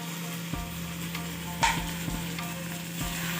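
Liver fry masala stirred in a pan with small onions and garlic, a steady sizzle broken by repeated scraping knocks of a spoon against the pan over a low hum, no voices.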